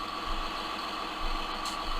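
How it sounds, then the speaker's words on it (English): A farm tractor's engine idles steadily at harvest time, a low continuous rumble with slight throbbing pulses, close and unaccompanied by voices. "I'll hop back into the tractor."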